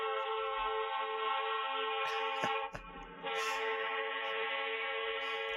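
Horn of the vessel JW Westcott II sounding a long, steady, train-like harmonic blast that holds throughout, with brief faint knocks partway through.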